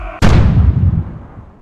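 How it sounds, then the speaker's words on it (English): A single cannon blast, sharp and loud, with a deep booming roll that fades over about a second and a half. "As the cannons thundered on the European continent"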